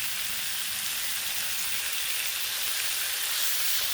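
Hash browns in bacon grease sizzle steadily and evenly on a Blackstone griddle, a close, continuous hissing fry with no talking.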